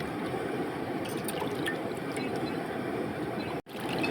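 Curry leaves are washed in water for village-style curd rice, making a steady, soft sloshing and trickling that runs continuously with a brief dip near the end.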